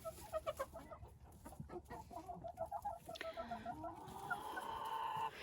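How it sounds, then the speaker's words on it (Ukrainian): Several small Lohmann White laying hens cluck in short, repeated bursts close by, with a busy farmyard chatter building toward the end. "Отакі невеличкі курочки, несучки."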